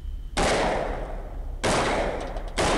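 Rifle shots fired at hogs during a night thermal-scope hunt, three sharp loud blasts spaced about a second apart, each followed by a rumbling decay.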